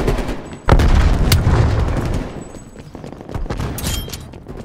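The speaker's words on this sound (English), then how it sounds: "Grenade out! Throwing stun!" A stun grenade goes off in a PS5 first-person shooter match, a loud sudden burst followed by rolling boom and crackling gunfire that fades over a few seconds.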